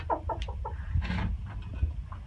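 A chicken clucks in its coop, a quick run of close, clear clucks followed by softer low murmurs and a few faint rustles, with no voices.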